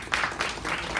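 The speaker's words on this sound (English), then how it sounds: "Everybody give them a big round of applause" A short burst of applause for team members at a fitness event, loose rhythmic clapping from a small audience.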